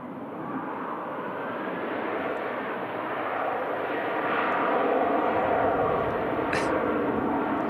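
Jet airliner engines roar steadily at Manchester Airport as an aircraft lines up for departure, a broad, sustained rumble that slowly swells, heard from a distance with people talking over it.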